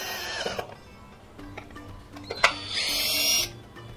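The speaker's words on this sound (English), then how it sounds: "Now tighten the screw." A small screw being driven into the back cover of an old multimeter, with a few faint clicks and taps followed by a short high-pitched whirring burst from a screwdriver, close by and quiet.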